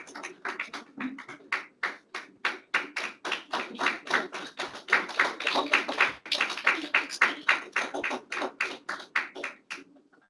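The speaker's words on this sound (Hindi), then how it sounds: "जबरदस्त तालियां हो जाए" Steady rhythmic clapping from a group at a long service award ceremony, hands striking in an even beat that builds and then tapers off.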